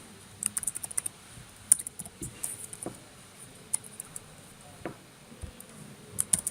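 Fingers tap on a computer keyboard in quick bursts of soft clicks while entering account details, close and fairly quiet, with pauses between runs of keystrokes.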